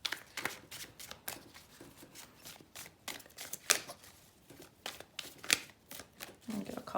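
A deck of tarot cards is shuffled in quick, close bursts of riffling and flicking, repeated about a dozen times with short pauses between.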